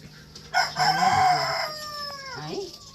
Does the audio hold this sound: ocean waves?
no